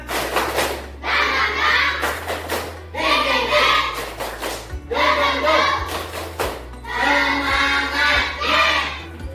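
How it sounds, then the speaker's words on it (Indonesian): A classroom group of students performs a rhythmic spirit clap, bursts of fast unison clapping in several repeated rounds separated by short pauses, loud and close, with a teacher's voice in the gaps. "Tepuk semangat dulu, tepuk semangat."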